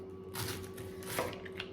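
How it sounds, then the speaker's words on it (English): A knife slices kale thinly on a cutting board, giving a few soft, scattered cuts and light rustles of leaves, quiet and close, with no one talking. "We're just going to slice it thin."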